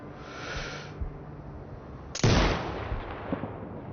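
A single sharp sniper rifle shot cracks out in the tactical shooter Sniper Ghost Warrior Contracts, a loud sudden blast decaying into a short rumbling tail over faint background hiss, with a softer thump earlier.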